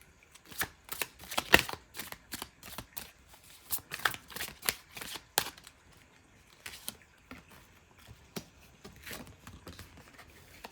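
Tarot cards are shuffled in a series of quick, crisp riffles and slaps, close and fairly quiet, bunched in bursts with short pauses and a softer stretch of card handling toward the end.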